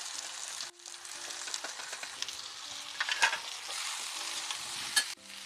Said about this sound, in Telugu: క్యాబేజ్ వేసేస్తున్నాను క్యాబేజీ కూడా ఉల్లిపాయలాగానే లాగానే మగ్గిపోద్ది